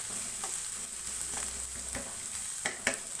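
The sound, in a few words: green chillies frying in a pan for sprouted bean curry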